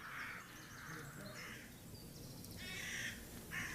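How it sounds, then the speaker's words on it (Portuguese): Jackdaws calling outdoors, a few harsh, clipped caws in bursts over a noisy, murmuring background, moderately distant. "Depois de sua experiência com Choc, Laurence continuou a criar e a observar as gralhas"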